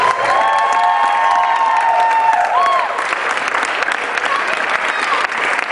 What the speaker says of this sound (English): So extra round of applause for Jillian.